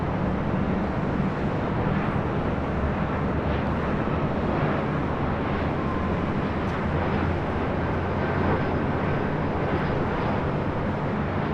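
Alaska SkyWest Embraer E175 airliner arriving at LAX from Santa Rosa, heard as a steady, loud broadband jet roar with wind rumble, continuous and unchanging throughout.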